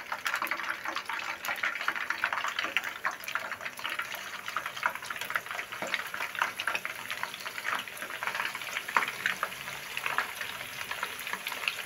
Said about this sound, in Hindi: अब हम दूसरा बैच भी इसी तरह फ्राई करते हैं